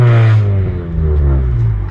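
Car engine revving while idling in neutral, a deep harmonic rumble that swells and settles over two seconds, loud and close, with a voice talking over it.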